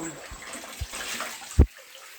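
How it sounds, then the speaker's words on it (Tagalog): Water from an open tap runs into a washtub used for bathing, a continuous splashy hiss with a few soft knocks and a brief thud, as people talk nearby. "pinapaagas na yung gripo"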